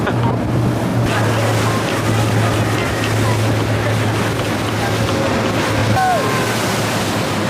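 A motorboat engine drones steadily over rushing waves and wind off Madeira, a continuous low hum with splashing noise throughout, fairly loud and close.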